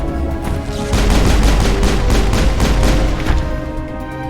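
Rapid bursts of sci-fi gunfire in Mass Effect, close and loud, with dense overlapping shots that swell and then keep going across the whole stretch with no pause.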